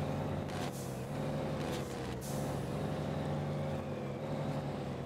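Deep rumbling truck engine braking in the video game SnowRunner, with a throaty, sputtering exhaust drone and a few sharp bursts, loud and continuous.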